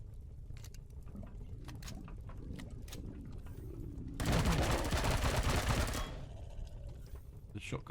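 Enemy gunfire in Empyrion Galactic Survival, a dense rattling burst lasting about two seconds in the middle, loud against a low rumbling game background.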